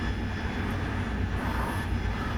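A jet aircraft engine in the DCS flight simulator game drones as a steady, loud, broadband roar with no pauses and no talking.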